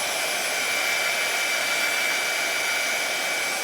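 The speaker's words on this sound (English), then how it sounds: "let's grab our little heat gun here and dry that" A small handheld heat gun blows steadily over wet watercolor paint, a constant, close, airy whirring hiss with a faint high whine that holds unchanged throughout, with no one talking.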